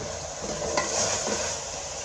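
Ground spices and turmeric being roasted with minced meat in a pot, giving a steady close sizzle with light scraping and stirring strokes, alone without voices.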